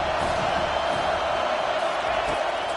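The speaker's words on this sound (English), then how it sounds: "Decibels rising as the crowd gets behind this defense on 3rd down." Stadium crowd noise rumbles in NCAA 25 college football video game play on a third-down defensive stand, a steady loud roar swelling evenly throughout with no breaks.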